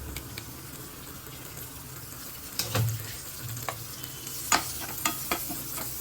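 Butter sizzling in a pan with garlic prawns, a soft steady frying hiss broken by a few sharp crackles and stirring scrapes, close up with no talk.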